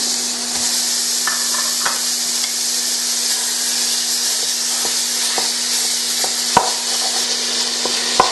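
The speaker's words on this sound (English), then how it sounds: "The first thing we want to do is start to brown our meat." A pound of lamb browns in a pot, giving a loud, continuous sizzle and hiss with occasional clicks and scrapes of stirring.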